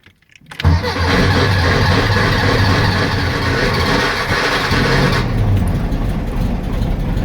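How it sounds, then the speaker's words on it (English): A VW Beetle fitted with a Type 4 EMPI muffler cranks briefly and fires up, then settles into a loud, throaty air-cooled idle with a steady low rumble. The engine sound softens slightly as a door or cover closes near the end. "let's go ahead and start it"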